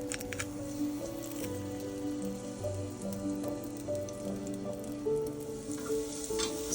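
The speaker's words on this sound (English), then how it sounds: "heat a tablespoon of butter in a saucepan. Add a clove of pressed garlic." Butter and pressed garlic sizzle in a saucepan with a steady, quiet crackle, with soft stirring and light clinks over a constant background hum.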